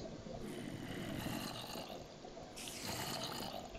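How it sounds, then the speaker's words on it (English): Molten metal is poured into a cast in modded Minecraft with a soft, bubbling liquid pour and a faint trickling wash, followed by a second, brighter gush a couple of seconds later. "Just throw it down, right click, pour it out, let it cool."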